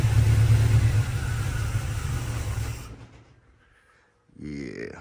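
A GM Performance crate 350 V8 runs on a cold start for nearly three seconds with a loud, steady low rumble. The engine then cuts off, leaving near silence, and a short burst of talk follows.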